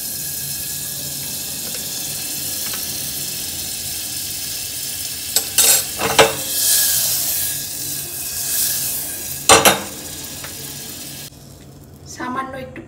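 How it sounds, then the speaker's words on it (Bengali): Butter sizzles in a hot pressure cooker that already holds potatoes and a little papaya: a steady close frying hiss with a few sharp clatters of utensils against the pot. "এখন আমি দেব বাটার।"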